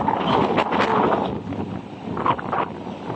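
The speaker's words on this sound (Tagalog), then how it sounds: "Sobrang lakas ng hangin." Strong wind buffets the microphone on a rainy day at the sea, a continuous roaring rush that surges and eases in gusts, loud and close, with no voices.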